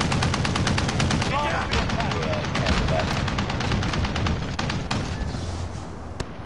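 Rapid bursts of automatic gunfire and single shots from a Call of Duty Hardcore Search and Destroy match fill the whole stretch at close range, dense and continuous with brief sharp cracks, over faint game ambience.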